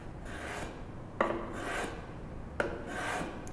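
A hand plane chamfers the edge of a wooden tissue box. Two sharp-attacked rasping strokes of wood shavings stand out, each about a second long, over a steady low background.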